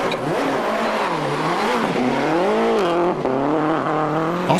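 A Subaru rally car throws a handbrake turn, its engine revving hard and rising and falling in pitch, loud and close, with a brief squeal of tires.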